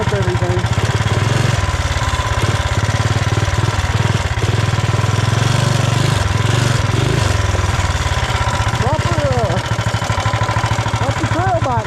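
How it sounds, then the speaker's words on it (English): Coleman B200R mini bike with a 420cc big block engine and swing arm, running steadily on a wooded trail, a loud continuous mid-pitched motor drone with small throttle shifts throughout. "Proper trail bike now, though. So smooth."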